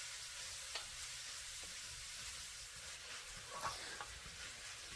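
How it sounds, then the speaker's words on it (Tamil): Spinach sautéing in a pan as the greens wilt, giving a quiet, steady sizzle and hiss with a few faint scraping clicks of stirring, no voices. "ஸோ இந்த கீரை நல்லா சுருங்குற வரைக்கும் நல்லா வதக்கிக்கலாம்."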